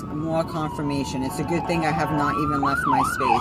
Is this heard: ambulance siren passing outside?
yes